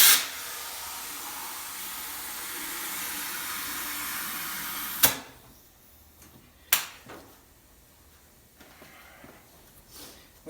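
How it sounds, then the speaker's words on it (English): Air hisses steadily into an inner tube on a manual tire changer for about five seconds, close and fairly loud, then cuts off, followed by a few sharp clicks and clunks of tools in a quiet room. "I'll fill the inner tube up so I know there's no twists or kinks in it"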